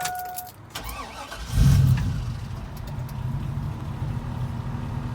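A 2001 Chevrolet Suburban 2500 HD engine running on propane conversion cranks briefly and catches, then settles into a steady, close idle that continues to the end.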